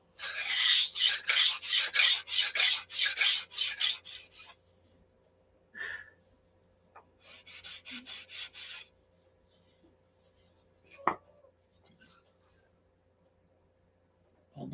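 Hand sanding and filing a wooden Viper stab into shape, heard as a close, steady run of rasping back-and-forth strokes, then a pause and a second burst of strokes, with a few scattered knocks and scrapes afterward.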